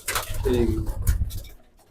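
A Fauji Butari Dabbe pigeon gives a short close coo, with a faint voice and background rustle around it.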